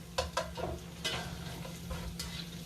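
Shrimp and broccoli stirred in a pan of hot sizzling sesame oil: a few sharp utensil scrapes and clicks over a soft, steady fry hiss, close and moderately quiet, with no voices.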